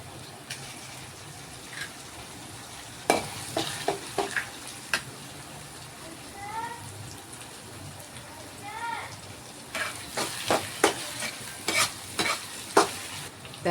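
Egg poured into a pan with ginger garlic paste for vegetable fried rice, frying with a steady sizzle broken by sharp scraping and stirring clatter of a spatula, near and fairly loud, with short murmurs of a voice in between.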